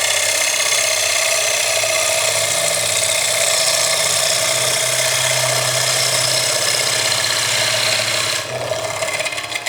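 A wood lathe gouge cuts a large salad bowl with its bevel rubbing, giving a steady scraping, rasping hiss over the motor's hum that carries on evenly before easing slightly near the end.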